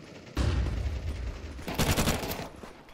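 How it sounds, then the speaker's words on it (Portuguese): Gunfire from a shooter in a video game, a dense sustained burst of rapid shots with a louder, brighter stretch partway through, close and alone. "E, olha o cara atirando, guys."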